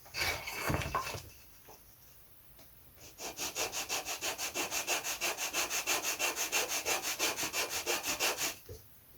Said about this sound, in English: So I've got to sand this on that edge.